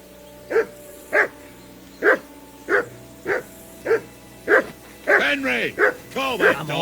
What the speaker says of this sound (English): That dog of yours is barking like the devil.